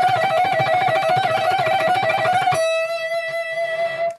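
Rapid distorted electric guitar notes fire off in a fast, dense minor-scale shred lick, then one note is held and sustains to the end.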